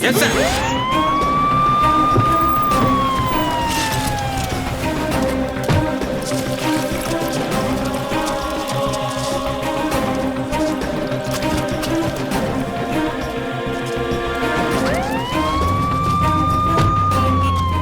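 A wailing emergency siren, in a Tamil crime thriller scene where an ambulance is called, rises and sweeps at the start, continues under dense traffic and street noise, then swells again near the end.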